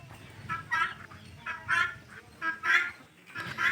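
Native chickens on a poultry farm give repeated loud honking, squawking calls in bursts about every second, fairly close and without talk.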